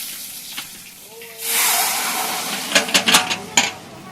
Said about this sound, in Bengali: পাশের কড়াইতে চাটনির জন্য দিয়ে দিলাম ফোড়ন, পাঁচফোড়ন, শুকনো লঙ্কা ও তেজপাতা।